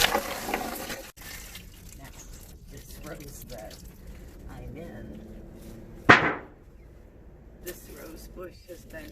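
Water runs from a tap to fill a container for soaking purchased rose bushes outdoors, a continuous splashing flow with a sharp gush partway through.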